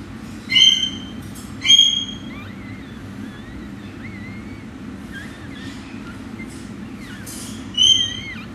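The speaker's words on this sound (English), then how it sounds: "you can hear them crying a little bit for their mommy" Tiny newborn Maltese puppies whimper and cry for their mother in faint, high squeaks, with three louder yelps standing out over a steady low hum.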